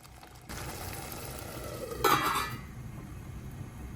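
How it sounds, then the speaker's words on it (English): A metal lid set onto a pot of simmering homemade pasta sauce, one bright clinking clatter near the middle over a low steady bubbling and kitchen background, close and fairly loud. "It's simmering now, so I'm gonna put the top on and let it reduce."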